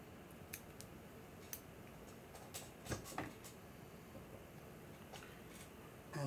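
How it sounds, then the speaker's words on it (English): Scissors cut away excess thread at a fly-tying bench. A few faint, close snips and clicks sound against a quiet room background. "Grab my scissors, cut away the excess."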